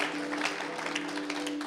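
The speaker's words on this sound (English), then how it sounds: "Can we give them a great round of applause, the church here?" A church audience claps for its hosts at a regional meeting, a steady spread of applause at moderate volume with no single clap standing out.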